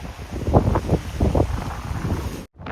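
Strong wind roaring past the microphone on a rocky seaside cliff walkway on the East Sea coast at Gangneung, rising and falling in heavy buffeting gusts before a sudden brief cut near the end.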